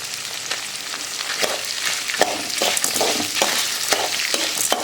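Pirandai chutney ingredients with dried red chillies being sautéed in a pan, giving a steady close sizzle with scraping stir strokes recurring throughout, no voices.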